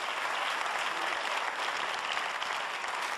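An audience claps for a singer, a steady, dense wash of applause that holds at full strength from start to finish without speech.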